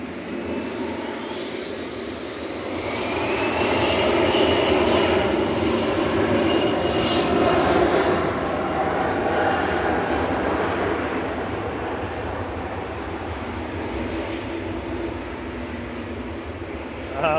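A KLM Embraer E2 jet at Manchester Airport, its engines producing a loud, whining roar with rising tonal whistles that peaks and then fades gradually, with some talking underneath.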